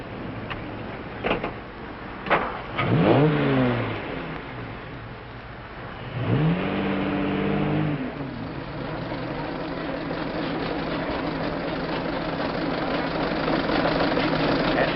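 Antique cars idle and rev with rising and falling engine pitch sweeps at the start of an antique car race, followed by a sustained rumbling drone from several engines, no talk audible.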